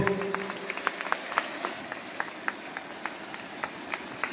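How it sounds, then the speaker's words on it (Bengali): Applause from a crowd at the unveiling of a golden jubilee logo for a Jagaddhatri Puja celebration, a steady wash of claps with sharper individual hand slaps standing out throughout, moderately loud and without talk. "লোগো উদ্বোধন হলো, জোরে করতালি হোক।"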